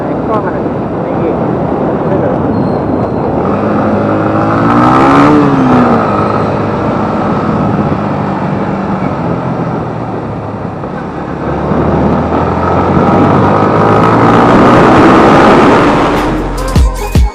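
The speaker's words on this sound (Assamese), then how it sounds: "বাইকখন নদী পাৰ কৰাই আনি মুখখন থৈ আহিলোঁ" A motorbike is ridden across a river, its engine droning steadily with rising revs under continuous rushing noise, while people talk nearby throughout.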